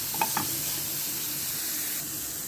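A coriander and raisin mixture sizzles steadily in a frying pan, with a couple of quick scraping stirs at the start over the continuous hiss.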